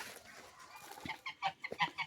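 A domestic turkey clucks nearby outdoors at a farmyard edge by woods, a few short soft calls in an uneven sequence against quiet background.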